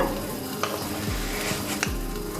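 Water with tea leaves in a pan bubbles at a steady rolling boil while ginger tea is made, a continuous close hiss with a couple of faint clinks.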